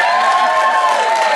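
At the 2016 Fremont County Fair in Sidney, Iowa, a crowd cheers and whoops for a best-duck contest, a loud brief burst of voices and clapping.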